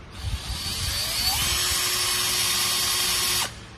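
An STR 54V cordless drill spins up and runs steadily at a high whine for about three seconds, then stops abruptly. The sound is close and loud, with no talk over it.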